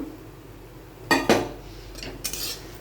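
Metal utensils scrape and clink against a kadai as fried peanuts are stirred in. Two sharp knocks come close together, followed by softer scraping clatter, with no talk.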